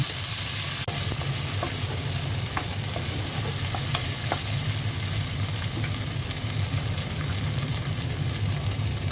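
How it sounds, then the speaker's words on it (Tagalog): Chorizo hotdog and tomatoes sauté in a hot pan with a steady, close sizzle and frying crackle, broken by occasional soft stirring clicks. "patuloy pa rin tayo sa ating paggigisa"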